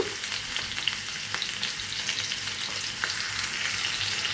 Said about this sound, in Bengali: এদিকে আমার তেলটা গরম হয়ে গেছে এই জন্য আমি পটলটা দিয়ে সামান্য পরিমাণে একটু হলুদ দিব